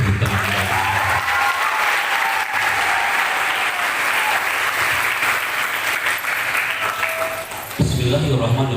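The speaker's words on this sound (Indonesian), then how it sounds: "Berikan tepuk tangan." An audience at a modern Islamic boarding school event gives a sustained round of loud, dense applause, a brief bit of voice showing at the start and a speaking voice taking over at the end.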